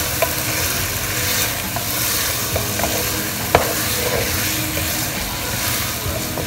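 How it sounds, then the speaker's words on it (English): Chicken karahi being stirred in a pan right after cumin and crushed black pepper go in, with a steady close sizzle and scraping spoon strokes throughout and one sharp clack near the middle. "Now we're gonna stir everything well."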